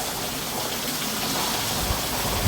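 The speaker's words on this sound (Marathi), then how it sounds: "मी बघतोय सगळा पाऊस" The first monsoon rain pours down in Maharashtra, a dense, steady hiss of heavy rainfall beating on surfaces all around, continuous and loud, with no voices.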